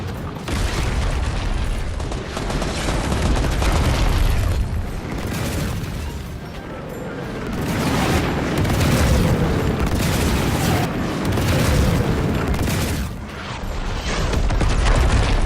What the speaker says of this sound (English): pieces of the comet began to hit the island, destroying man-made structures, influencing fights, and causing havoc everywhere